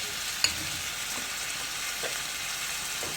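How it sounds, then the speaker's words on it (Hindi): Chicken pieces and garlic frying in about two spoons of hot oil, a loud continuous close sizzle with a sharp clink near the start and faint stirring scrapes. "इसमें लहसुन डालेंगे और फिर अब चिकन इसमें डाल देंगे।"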